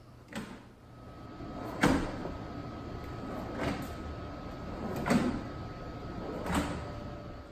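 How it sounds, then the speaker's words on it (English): Soft-close drawer slides on a newly built wooden dresser, drawers pushed shut several times in a row, each a soft sliding whoosh ending in a gentle close, quiet and close by. "I got these soft close slides off Amazon"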